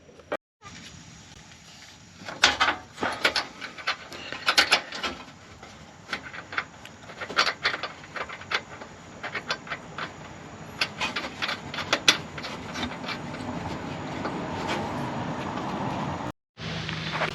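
Hand tools tighten trailer hitch bolts and nuts on a Mazda Miata, giving a run of irregular metallic clicks, ratchet taps and scrapes, close and moderately loud, with no talking.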